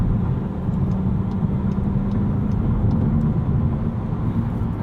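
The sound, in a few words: 2020 Volkswagen Jetta GLI engine after downshift to 4th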